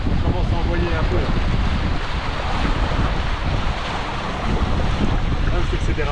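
Strong wind gusts roar steadily across the microphone aboard a sailing catamaran out on the water, a dense, continuous buffeting rush with faint wave wash underneath.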